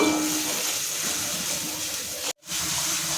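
Ground cumin, turmeric, salt and a little sugar sizzle in hot oil in a pan, a steady close hiss with a brief cut near the end.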